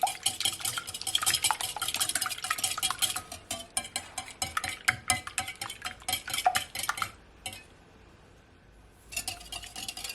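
A whisk beats a single egg in a bowl with rapid, steady metallic clinking for about seven seconds, then pauses briefly before resuming at the end. The sound is close and fairly loud, with no talking.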